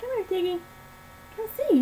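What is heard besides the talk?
No everyday noise stands out behind the speech.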